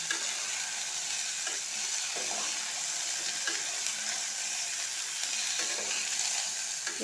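Chopped ivy gourd fries in a pan while being stirred, a steady close sizzle with intermittent scraping strokes of the spatula throughout.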